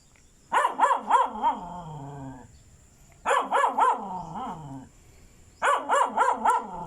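A dog next door at a house on a residential lot barks in three loud clusters of three or four sharp, tonal barks, each followed by a short trailing whine, with quiet pauses between the clusters.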